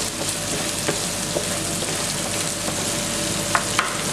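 Ground meat and garlic fry for a bolognese in a pan over lowered heat, giving a dense, continuous close sizzle with occasional light scrapes and pops and no talk.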